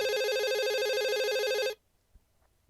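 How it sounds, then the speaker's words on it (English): Electronic mobile phone ringtone in the visual novel Katawa Shoujo, a loud, steady, warbling trill that plays for under two seconds and then cuts off abruptly into near silence. "My mobile phone starts to ring, cutting my thinking short."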